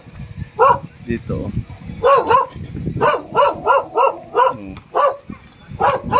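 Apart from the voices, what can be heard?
dog barking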